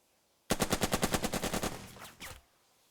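A machine gun fires in the Burden of Command war game: a rapid burst of about a dozen evenly spaced shots, then a couple of trailing reports, moderately quiet and with no talk.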